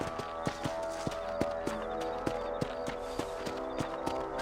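Horse hooves in the Western video game Red Dead Redemption, a rapid regular clip-clop of galloping beats running steadily from start to finish, no talk over it.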